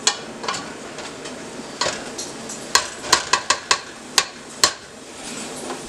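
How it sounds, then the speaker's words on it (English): Spaghetti meat sauce with aromatics stirred in a pot, a spoon scraping and knocking against the metal in sharp irregular clacks over a soft simmering sizzle. "Give that a nice stir."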